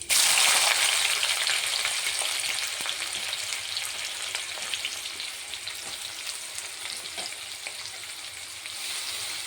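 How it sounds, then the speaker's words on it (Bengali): Onions hit hot oil in a wok and set off a loud, crackling sizzle that bursts at once and then settles into a steady, dense frying hiss with scattered pops, close by and with no talk. "কড়াই তেল দিয়ে দিয়েছি, আমাদের তেল গরম হয়ে গেছে বন্ধুরা। ওই পেঁয়াজ দিয়ে দেবো"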